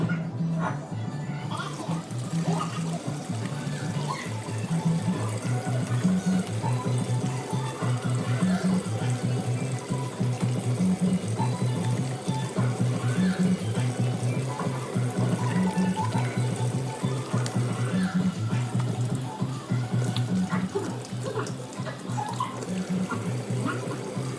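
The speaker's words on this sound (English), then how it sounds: "Before I see this patient, I'm going to make sure that I wash my hands." A sink tap runs steadily while hands are washed before a patient visit, a close, continuous splashing rush of water that holds even for over twenty seconds.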